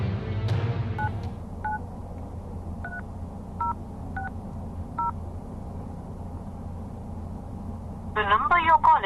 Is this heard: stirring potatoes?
no